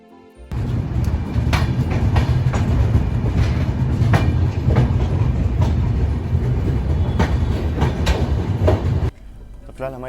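Indian passenger train rolling along the rails on a long-distance journey near Jolarpettai, with a loud, steady rumble and repeated clickety-clack wheel beats close by, easing off at the very end.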